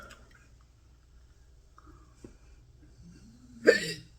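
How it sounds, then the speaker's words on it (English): A single sharp hiccup from an adult in a home kitchen while cooking, heard near the end after near-silence with faint background noise, close and fairly loud. "And here I go with the hiccups."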